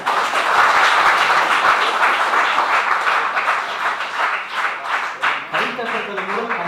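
A crowd at a university gathering applauds in a loud, continuous wash of clapping that softens near the end as a voice begins speaking over it.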